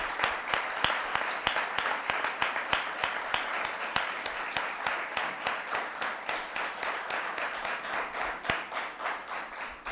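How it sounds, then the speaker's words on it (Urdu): A church congregation claps hard with both hands during a Sunday service, a loud, sustained round of applause made of dense, rapid claps with regular sharp accents that lasts about ten seconds. "اور اب دونوں ہاتھوں سے زوردار تالی خداوند کے لہو کے لیے بجائیں گے"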